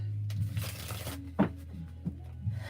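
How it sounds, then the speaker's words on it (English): A deck of tarot cards being shuffled by hand: one brief papery riffle followed by a few soft taps and slides, close and quiet against a low steady hum. "Okay, so let's give it one more good shuffle"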